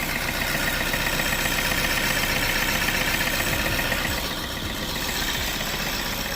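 A 2012 Vauxhall Corsa with a 1.3 diesel engine, in poor condition and giving off heavy fog-like smoke, runs with a steady, dense, rough drone, close and loud, easing slightly partway through, with no talking.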